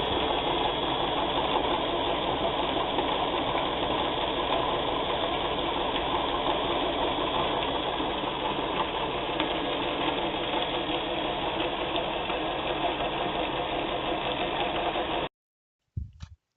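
A rock tumbler running much too fast gives a loud, continuous rattling whir with rumbling barrel noise that holds steady for about fifteen seconds and then cuts off abruptly, leaving a few faint clicks.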